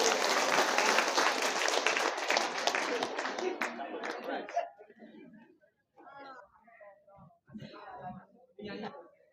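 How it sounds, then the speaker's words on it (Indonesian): Audience at an Indonesian teacher appreciation awards event breaks into dense, loud applause that fills the first half, then stops abruptly, giving way to scattered murmurs, chuckles and quiet talk. "Tepuk tangan Bapak Ibu."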